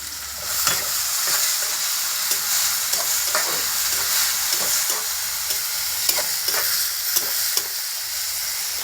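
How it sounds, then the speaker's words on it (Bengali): Tomatoes with salt frying in a pan, a continuous close sizzle broken by regular scraping stirs of a spatula at roughly one-second intervals, with no talking. "টমেটোটা নাড়তে থাকবো এবং টমেটোতে কিছু পরিমাণ লবণ দিয়ে দেবো"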